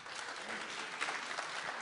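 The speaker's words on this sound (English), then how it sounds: "Clap, please." Audience applause at a Go programming meetup talk, a steady wash of many hands clapping throughout, moderately distant and even in level with no speech over it.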